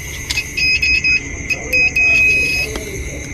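A multimeter's high-pitched continuity buzzer beeps in short bursts and a longer sustained tone, close by, over a low background hum, while testing a welding machine circuit board.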